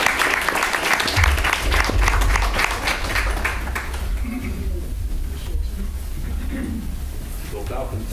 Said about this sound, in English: one more round of applause there